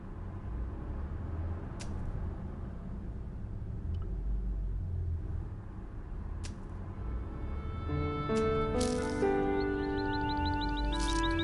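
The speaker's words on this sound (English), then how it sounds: "all I could hear was the ceaseless drone of traffic" A low, ceaseless traffic drone from the video game Broken Sword, played on PS5, rumbles steadily in the background before musical tones enter near the end.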